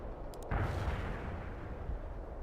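Artillery fire in the real-time strategy game World in Conflict, as heavy fire support for a Soviet assault. A deep booming rumble starts suddenly and rolls on steadily, fairly faint and low.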